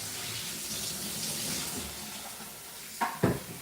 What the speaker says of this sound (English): And now we get to rinse the film.